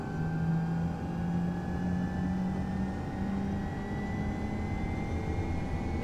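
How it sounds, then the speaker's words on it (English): A PC-12 turboprop engine spools up in Microsoft Flight Simulator, a steady whining drone with a slowly rising tone and a constant hum, even and continuous throughout. "Engine's coming alive."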